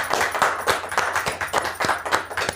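An audience at an MLM training event claps to welcome a speaker to the stage, giving a dense run of individual handclaps with a rough, uneven rhythm that stays fairly loud and steady the whole time.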